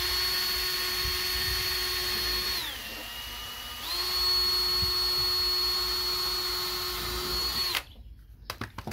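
A power drill drives screws into a corner piece of porch lattice, its steady high whine dipping briefly as the motor bogs mid-run, then resuming until it stops, followed by a few short clicks and taps.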